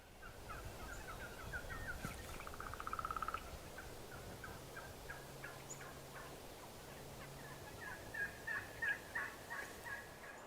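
Wild turkeys call and gobble repeatedly across an open field, some calls near and louder, others distant, with no talking.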